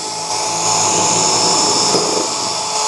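Angled drilling into wooden boards for a DIY pet house with a power drill, its loud continuous whine running steadily throughout at close range, with no voices.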